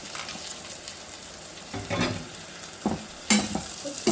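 Banana flower curry frying in a pan, quiet sizzling in the background broken by a few louder scrapes and stirring bursts, with no talking.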